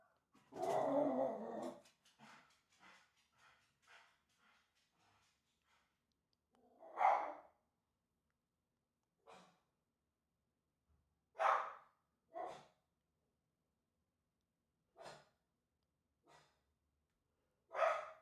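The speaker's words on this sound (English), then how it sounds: "Oh no, the dog's barking." A dog makes short, sharp bursts spaced a few seconds apart. A rougher growling, snorting burst comes at the start, and there are quiet pauses between the sounds.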